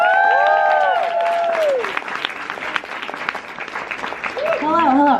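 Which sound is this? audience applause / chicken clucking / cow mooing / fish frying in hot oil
audience applause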